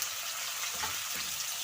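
Sajne data (drumsticks) fry in hot oil in a pan, giving a steady, moderately loud hiss and bubbling crackle with no talking.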